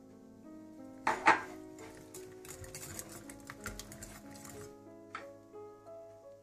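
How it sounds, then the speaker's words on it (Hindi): Coleslaw being stirred in a bowl with walnuts and raisins: a sharp clink of utensil on the bowl, then a few seconds of soft scraping and tapping from mixing, close and fairly quiet. "अच्छी तरह मिलाने के बाद आप इसमें अखरोट और किशमिश भी डालकर अच्छी तरह से मिला लें"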